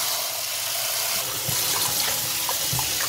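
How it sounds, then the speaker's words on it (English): Fresh grapes being washed under a running tap, a steady splashing gush of water with soft knocks from handling. "First, I'll wash the grapes and remove the stems."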